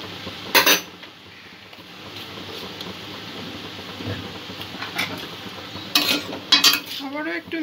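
A spoon clatters and scrapes against a pan while egg chowmein with chilli sauce is tossed and stirred, with soft frying sizzle underneath and sharp metallic clinks near the start and end.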